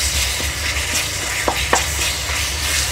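Onion frying with garlic-ginger paste in a pan for matar paneer, a steady close sizzle with a few soft scraping stirs, no talking.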